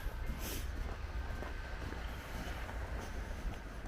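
A train approaches during a snowstorm, producing a broad, continuous low rumble with steady mechanical roar and hiss, fairly loud and with no voices.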